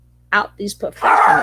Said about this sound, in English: That's my dog, of course.